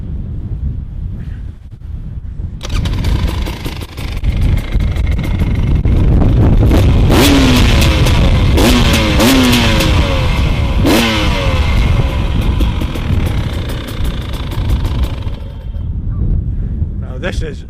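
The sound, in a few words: KTM 300 EXC TPI supermoto motorcycle engine revving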